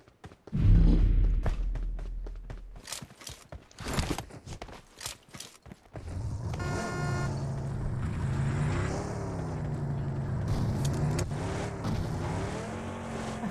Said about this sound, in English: So we have a car.